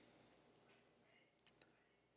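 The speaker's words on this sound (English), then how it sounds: "So I take my mouse and I click right up here." A computer mouse clicks a few times, small sharp clicks that are quiet and close, with a near-silent pause between them.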